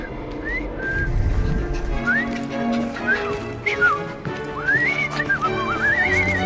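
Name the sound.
whistling in Assassin's Creed Syndicate video game cutscene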